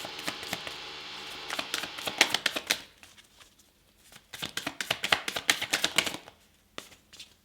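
Neighbour noise: rapid clattering, tapping knocks in two dense bursts separated by a quiet gap, fairly close and sharp, with no talking.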